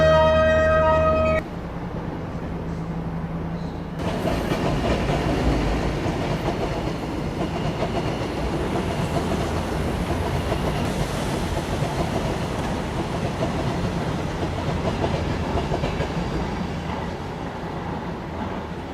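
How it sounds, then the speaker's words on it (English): Train running on rails, a steady loud rumble and rattle of wheels and cars that carries on continuously close by after a brief quieter opening tone. "The trains travel farthest."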